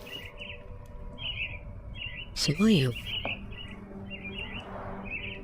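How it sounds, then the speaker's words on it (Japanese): Birds in the video game Sherlock Holmes The Awakened chirp in short, repeated tweets spread across the scene, soft and steady in the background, while a voice speaks briefly in the middle. "あ、鳥。"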